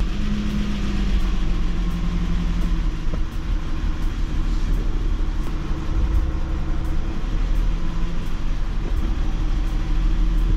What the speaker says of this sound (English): Right now the car sounds great. There's a slight ticking.